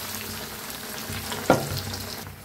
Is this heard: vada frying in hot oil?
yes